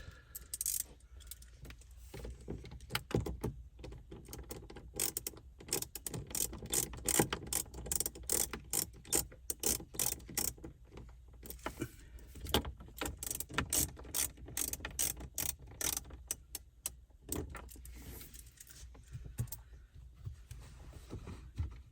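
Two screws being driven back into interior trim on a 2023 Ford Super Duty truck, heard as a long run of rapid ratcheting clicks and mechanical rattles, close and continuous with no talk.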